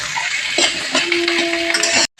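Large chunks of chopped onion fry in a pan with a close, continuous sizzle, broken by a few stirring scrapes and a faint whining tone.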